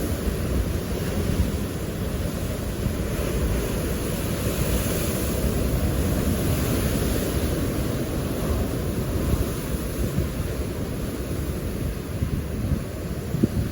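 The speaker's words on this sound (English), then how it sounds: "Look at this wave here coming in, and it's gonna come in like break there" Surf rolling in and breaking along the shore at Nuevo Vallarta after Hurricane Roslyn in 2022, heard as a steady low roar of waves mixed with strong wind buffeting the microphone, with no talking.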